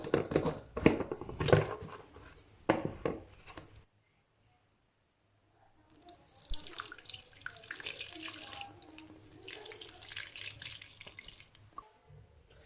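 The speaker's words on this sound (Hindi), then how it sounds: "ये छाननी है जिसके साथ मैं दूध को छानने लगा हूँ" Whey from curdled milk pours through a sieve into a pot below, giving a splashing, trickling stream that stops for about two seconds and then resumes at a softer, irregular flow.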